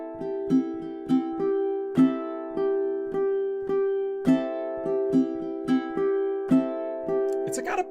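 A ukulele is strummed on open, unfretted strings in a repeating, almost backbeat pattern, with crisp, bright strokes landing at regular intervals, close and clear.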